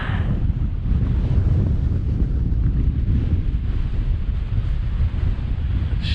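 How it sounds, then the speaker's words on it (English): Strong, steady wind on the summit of Helvellyn roars and buffets the microphone with deep rumbling gusts throughout, loud and continuous, with no voices. "it's very windy."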